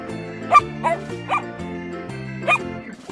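A dog barks four times in an uneven rhythm over a bouncy children's song with music playing underneath.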